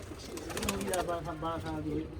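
Soft, rhythmic cooing of pigeons close by, with a voice speaking at the same time.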